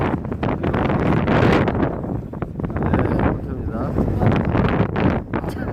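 Strong wind buffeting a microphone at a lakeside fishing spot during carp spawning season, a loud, gusty roar that rises and falls under a man's speech.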